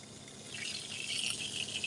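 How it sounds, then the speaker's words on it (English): Food sizzles in a hot pan, a steady crackling hiss close by that grows slightly louder, with no voices. "You hear that sizzle?"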